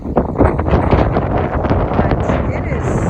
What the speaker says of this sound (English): But it is super, super windy out here.